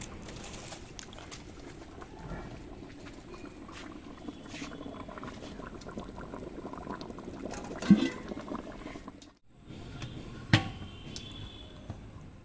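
A pot of mutton simmers on the stove, a busy bubbling and gurgling that runs steadily, briefly drops away, then resumes with a few louder pops and clinks nearby.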